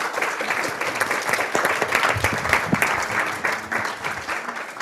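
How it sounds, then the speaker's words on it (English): Audience applause for a panel at the Oxford Science of Startups Initiative launch event: dense, steady clapping from a roomful of people, fairly loud and unbroken for the whole stretch. "another round of applause maybe for the panelists"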